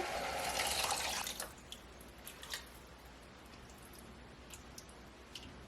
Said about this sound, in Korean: 이제 아까 준비해뒀던 쌀뜨물을 넣어볼까요?